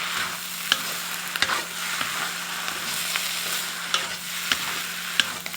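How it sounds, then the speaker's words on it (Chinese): Scallions stir-fry in a wok with salt and star anise powder, giving a steady close sizzle punctuated by sharp spatula scrapes and clicks. "再炒一下葱香。"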